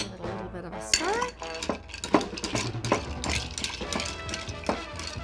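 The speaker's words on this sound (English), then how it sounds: "All right, so let's add some ice. There we go. Give it a little bit of a stir." A purple gin cocktail stirred with ice in a glass, with clinks and rattles of ice cubes against the glass and spoon in an irregular rhythm, close and moderately loud.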